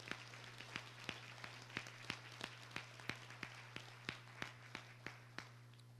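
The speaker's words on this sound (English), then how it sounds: "We give them a round of applause." Sparse, slow handclapping at a school district board meeting, a few isolated claps spaced roughly a third of a second apart over a steady electrical hum, faint and distant in a large room.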